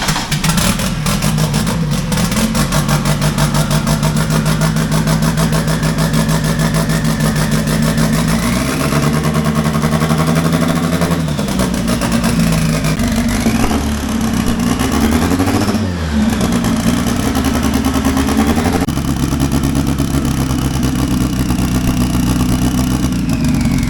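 A tractor engine with a carburetor and boost running steadily and loudly up close, with revs rising and falling in several swells over a constant droning rumble, no talk over it.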